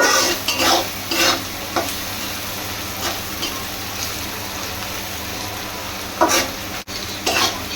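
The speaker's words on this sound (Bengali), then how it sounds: "এবার এটাকে সুন্দর করে ভেজে দেব" Spices with turmeric and salt fry in a pan for a tengra fish and spinach curry, a constant sizzle broken by several scraping stirs of a spatula against the pan, no talking.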